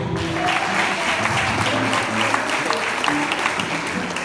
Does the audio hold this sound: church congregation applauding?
yes